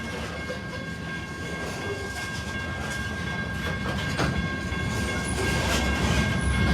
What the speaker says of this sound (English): We're waiting on the Illinois Terminal Heritage Unit to show up. It's the rear DPU on this train.